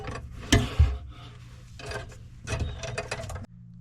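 A wrench works on leaking faucet plumbing, making close, scraping, rasping metal turns in a few separate bursts with short pauses between them.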